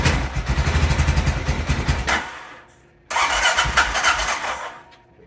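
A 2003 Honda Rincon ATV with a freshly cleaned carburetor cranks and catches, chugging with a pulsing mid-pitched engine beat, dies out briefly, then fires again and runs roughly, loud and close.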